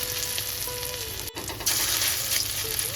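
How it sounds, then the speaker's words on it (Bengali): Prawn-head fritters frying in hot oil, a dense, steady sizzle with crackling bubbles, briefly interrupted before resuming louder. "যতটুকুনি বাকি আছে ততটুকুনি গরম তেলে দিয়ে ভেজে নেব"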